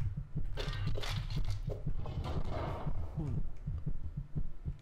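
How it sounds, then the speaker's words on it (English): Inside the video game Eternal Step, a low, throbbing heartbeat pulses steadily, a repeated thumping rhythm with a faint hum behind it and no talk over it. "I hear like a heartbeat."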